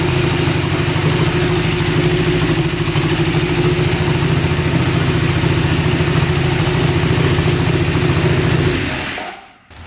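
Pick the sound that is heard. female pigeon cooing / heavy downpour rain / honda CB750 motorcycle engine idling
honda CB750 motorcycle engine idling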